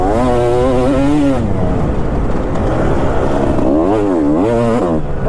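Kawasaki KX250 two-stroke dirt bike ridden on a deep sand track, its engine loud and close, revving up and down in a rising and falling wail as it powers through the sand.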